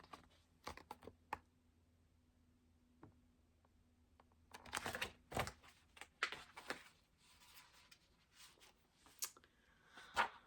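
Rapid clattering keystrokes in irregular bursts, close and fairly quiet, with short pauses between flurries, like a typewriter or keyboard being used to write a poem.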